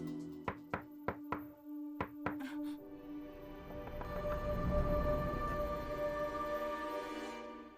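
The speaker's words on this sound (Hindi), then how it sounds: "लगता है दरवाजे पर किसी ने दस्तक दी है।" Knocking on a wooden door, a run of about seven sharp knocks in two quick groups, followed by a swelling dramatic musical drone.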